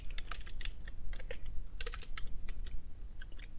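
Someone types code on a computer keyboard in quick, uneven bursts of close key clacks, with a brief flurry in the middle, over a low background hum.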